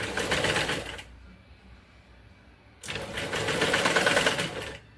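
Sewing machine stitching lace onto a blouse back neck, two close bursts of rapid mechanical whirring separated by a quiet pause of soft handling.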